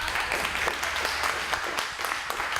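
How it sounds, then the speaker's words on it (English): Dense, steady applause fills the room from an audience at the close of a rocketry presentation, holding at an even level throughout with no voices on top. "Let's give a big round of applause."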